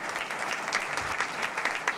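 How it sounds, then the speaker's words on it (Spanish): Audience applause at an international book fair of Dominican women writers, a steady dense clapping that holds evenly through the clip with a few sharper claps standing out. "Un aplauso."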